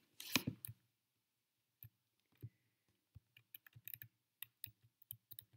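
Computer keyboard keys clicking in short irregular bursts during work on a document's page numbering, ending with scattered taps including the Enter key, close and crisp in an otherwise quiet room.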